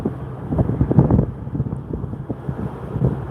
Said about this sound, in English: The surf looks like it's a little high, elevated, windy, of course.